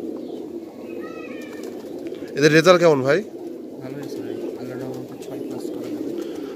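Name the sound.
pigeons cooing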